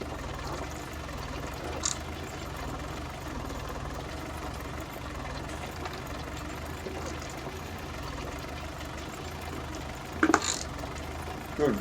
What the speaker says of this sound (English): Definitely a good tractor on the farm, this, for the main workhorse for ploughing and cultivating,